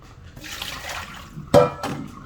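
Water splashes and pours as a pet's water dish is emptied and refilled, with a soft running trickle followed by two sharper splashes close by.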